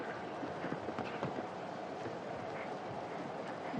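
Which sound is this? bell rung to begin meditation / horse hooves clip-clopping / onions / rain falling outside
horse hooves clip-clopping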